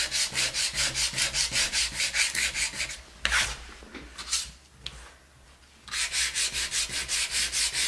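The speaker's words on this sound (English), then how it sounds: "Sanding in a straight line is going to be your most important thing" Steady rhythmic rasping of sandpaper rubbed back and forth on wood, close up, pausing briefly midway before the strokes resume.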